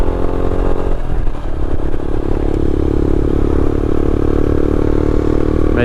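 Motorcycle riding across Dartmoor, a steady loud engine drone held close throughout with faint clattering and rattle over it, no talking.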